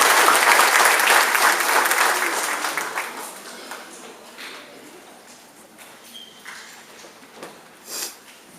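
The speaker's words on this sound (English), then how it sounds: "Let's give all of these students a big round of applause." A school audience at a 6th grade awards ceremony applauds honored students, a full burst of crowd clapping that gradually thins and fades to scattered claps and quiet room noise.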